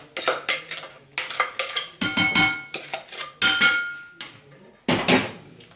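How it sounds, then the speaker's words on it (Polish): Crumb cake batter scraped from a small bowl into a larger mixing bowl, with close, repeated clinks and scrapes of a utensil against the dishes in several uneven bursts. "Miseczka jest troszeczkę za mała, więc przekładam do większej miski i całość połączę."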